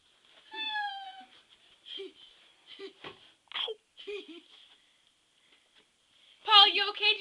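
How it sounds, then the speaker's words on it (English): A novelty cat notebook that meows when opened gives a string of high, wavering electronic meows in short bursts, the last one loudest, fairly close and quiet in a room. "Even meows when you open it."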